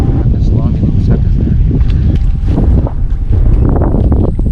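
Wind gusting and buffeting the microphone on a small fishing boat while a cast net is thrown, a loud, rough, steady rush with voices talking over it.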